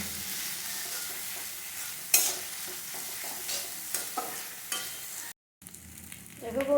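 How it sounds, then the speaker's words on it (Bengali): Ginger, onion and garlic paste sizzles steadily in a hot pan while being stirred, with a few sharp clicks of the utensil and a brief silent break near the end; no one speaks. "এর মধ্যে আদা পেঁয়াজ আর রসুন বাটাগুলো দিয়ে নিচ্ছি। এবার একটু লাল লাল করে একটু ভেজে নেবো।"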